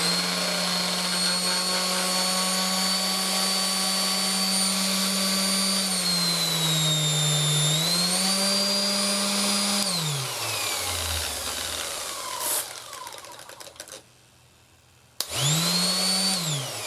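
A Parkside PMFS 200 B2 multi-function sander runs loud and close with a steady whine that dips and recovers, winds down to a brief silence, then starts up again.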